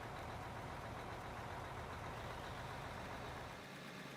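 Steady low rumble of a heavy truck engine idling in the mining game Out of Ore, continuous and even throughout, close and unbroken with no talk over it.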